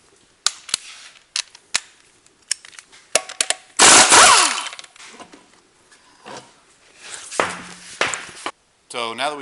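Wheel nuts come off the front wheel of a Chevy Suburban in a garage: sharp, close bangs and clanks, with one long loud burst in the middle, while people talk between the hits.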